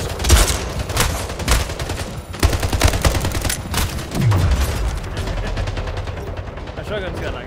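Dense shotgun and weapon fire in the arena shooter Splitgate during an Oddball match, with rapid overlapping blasts and booms filling the mix loudly and continuously.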